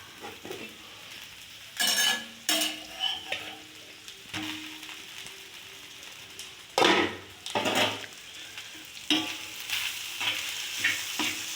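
Dosa cooking on a large stone griddle, being flipped: a steady sizzle of frying batter with several loud scraping, spatula-like bursts at intervals, close and without talk.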